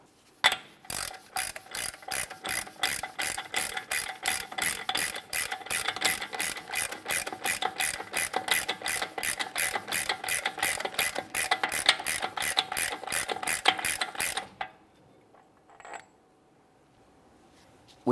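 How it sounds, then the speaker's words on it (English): A hand ratchet clicks rapidly and steadily as it tightens an axle nut during a front strut and spring replacement on a 2017-2024 GMC Acadia, close and continuous for about fourteen seconds, then stops with a few faint taps. "We'll go ahead and tighten this with a hand tool, get it down closer to the ground"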